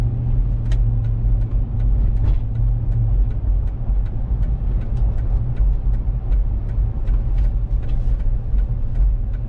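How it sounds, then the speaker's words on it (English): A 2005 Ford Expedition Eddie Bauer 4WD accelerates up an on-ramp toward highway speed, its steady, loud engine and road rumble droning continuously from inside the cabin with no pauses. "I'm going to get it up to the on-ramp here, and we'll test the cruise and get it up to highway speed."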